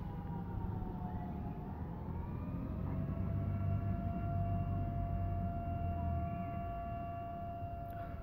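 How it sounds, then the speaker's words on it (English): A distant air raid siren wails with slow rising and falling pitch, steady and moderately faint over low background rumble, with no one speaking. "I think that's a fucking air raid siren."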